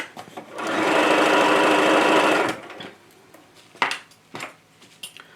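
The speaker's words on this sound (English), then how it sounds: "And this is where I'm going to stop sewing." Close, loud whirring of a sewing machine stitching a zipper pouch runs in one burst of about two seconds, then stops and gives way to scattered clicks and handling knocks.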